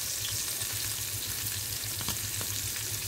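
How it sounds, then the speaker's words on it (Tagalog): Continuous crackling sizzle of fish frying in hot oil, close and steady, with small pops scattered throughout. "ito pala pakita ko rin sa inyo habang nagpiprito ako"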